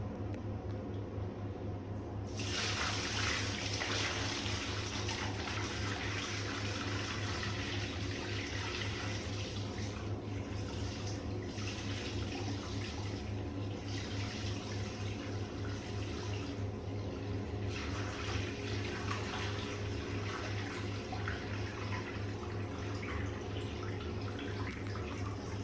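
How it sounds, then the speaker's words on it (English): Water pours steadily into a newly screeded and waterproofed shower tray during a bathroom renovation flood test, a continuous rushing splash that stays loud and even throughout, with no talking. "Water will leak, but we're just trying to pour it in faster than it leaks"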